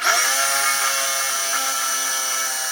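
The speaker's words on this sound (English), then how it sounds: "It expands the hole that you're drilling, and it makes a nice clean hole." A step drill bit cuts into a PVC tube with a steady, loud power-drill whine that holds throughout, its high buzzing overtones staying constant with no talking.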